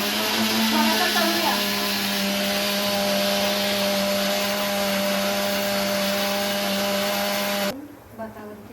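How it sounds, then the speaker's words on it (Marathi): Mixer grinder running continuously with a steady loud whine while grinding onions for chicken biryani, then cutting off abruptly near the end as voices talk nearby. "सगळा कांदा मिक्सरला लावणार आहे ना?"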